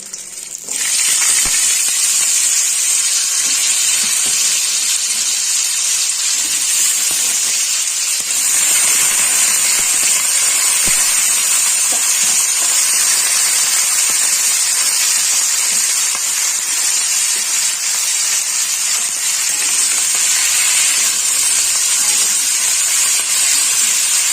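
Thin, long-cut potato slices sizzle in hot oil in a pan for a Bengali onion-stalk and small-fish dish, a loud continuous hiss that starts abruptly and holds steady throughout.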